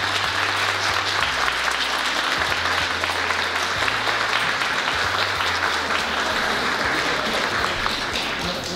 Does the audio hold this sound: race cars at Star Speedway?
no